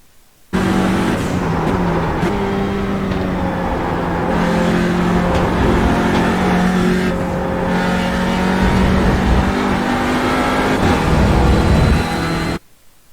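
Simulated Audi RS3 LMS TCR race car engine lapping Spa in iRacing, a loud continuous drone with throttle lifts and rolls, brief dips in pitch and steady revving, alone with no talk.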